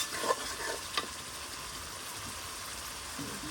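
Curry being sautéed and stirred in a pan outdoors, a quiet steady sizzle with a couple of short scraping stirs near the start.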